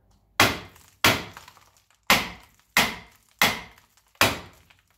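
Six sharp metallic strikes at a steady spacing ring out close and loud, each decaying quickly, as a front brake rotor on a 2011 Kia Optima is hammered to free a small seized retaining bolt.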